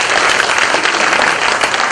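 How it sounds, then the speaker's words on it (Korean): Loud, dense applause from an audience at a Busan education superintendent candidates' policy debate, steady clapping filling the whole moment without any voices. "박수를 좀 부탁드리겠습니다."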